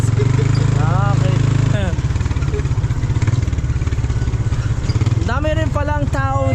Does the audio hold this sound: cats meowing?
no